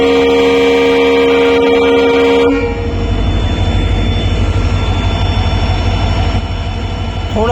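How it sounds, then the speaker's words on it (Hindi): A loud, steady horn from the Anuvrat air-conditioned superfast express train sounds close by, then stops abruptly and leaves a continuous rolling rumble of the moving train. "ACP अलार्म चेन पुलिंग, जिसमें 2 छोटे हॉर्न और लास्ट में एक बड़ा हॉर्न दिया जाता है"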